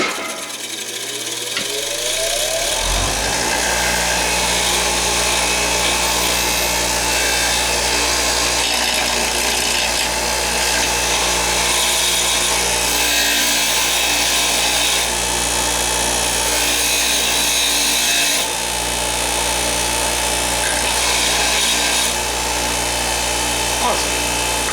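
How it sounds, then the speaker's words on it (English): A Hart bench grinder spins up after a few seconds, then runs as a loud, steady motor whine and hum that continues throughout. "this is a Hart bench grinder"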